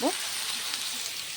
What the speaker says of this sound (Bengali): আর এদিকে আমি সবজিগুলো আর কি ভেজে নিচ্ছি, যে সবজিগুলো মাছে দেব।